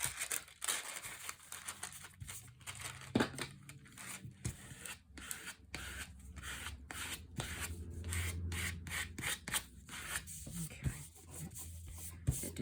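Hand rubbing and smoothing down a folded paper matchbook-style document binder, with a steady dry scuffing that comes in repeated close strokes and short pauses.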